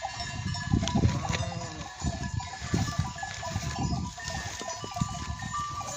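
A flock of sheep and goats moving together outdoors, with overlapping bleats, a dense rustle of hooves and bodies, and bells clanking throughout, with no talking.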